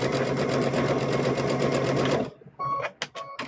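Sewing machine stitching the fabric of a stuffed bear runs steadily and close for about two seconds, then stops, leaving a few small handling clicks and rustles.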